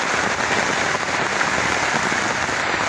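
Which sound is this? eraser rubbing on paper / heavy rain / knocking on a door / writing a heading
heavy rain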